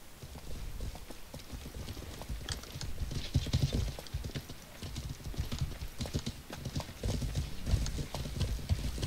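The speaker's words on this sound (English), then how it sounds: "Just walking my horse up" Steady clip-clop of horse hooves walking at an even pace in the video game Life is Feudal MMO, dense and continuous, with a faint whinny and background game ambience.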